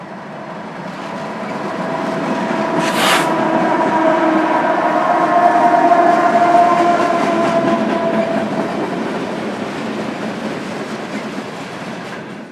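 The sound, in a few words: long freight train passing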